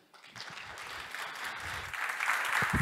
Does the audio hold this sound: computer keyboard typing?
no